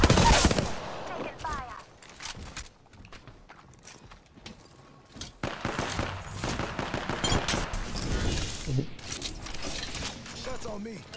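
Apex Legends Season 18 gunfire: scattered loud shots and rapid bursts mixed with in-game clatter and effects, rising and falling across the stretch while players talk over it.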